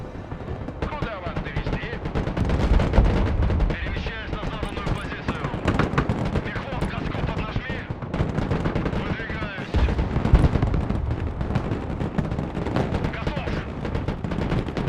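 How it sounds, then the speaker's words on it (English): A rocket artillery barrage in the war video game Broken Arrow makes a dense, continuous roar of rapid launches and explosions, loud and unbroken throughout, with heavier booming surges now and then. "we can actually just spam rocket artillery at them"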